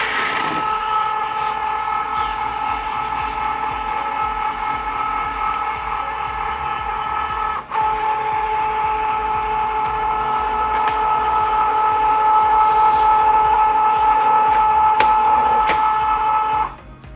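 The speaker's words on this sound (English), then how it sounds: "I'm going to press this against the rollers, and then it's going to measure the material." Cricut Joy cutting machine measuring a sheet of loaded vinyl, a steady whirring motor hum with a sustained tonal whine that pauses briefly partway, then continues evenly until stopping at the end; no talking.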